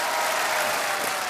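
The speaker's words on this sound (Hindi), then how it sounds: "ताली बजाइए इनके लिए।" A studio audience on a Hindi TV quiz show breaks into steady, sustained applause, a dense wash of clapping that holds evenly from start to finish.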